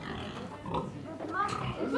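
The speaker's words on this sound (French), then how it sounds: "Nous avons 4 cochons." Grunting pigs from a group of four kept to eat scraps on an organic farm in Montreuil-le-Gast, France, heard at close range in a steady, noisy barnyard mix with voices mixed in.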